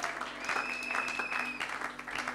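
A church congregation applauds and cheers for Jesus, a steady wash of clapping with a sustained whistle-like tone over it, moderately loud throughout.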